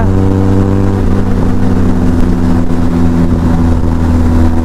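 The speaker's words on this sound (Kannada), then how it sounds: "ನೋಡಿ ಕೇಳಿಸ್ಕೊಳ್ಳಿ, ಬ್ಯಾರಲ್ ಎಕ್ಸಾಸ್ಟ್ ಸೌಂಡು TRKಗೆ" A Benelli TRK 502 motorcycle with a barrel exhaust revs close by, a loud, deep, continuous bassy engine roar with steady throbbing harmonics and no talking.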